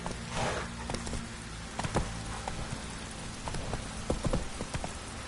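Roach, Geralt's horse in The Witcher 3, trotting with steady rhythmic hoof clops over a continuous low rumble, moderately close, with no talk.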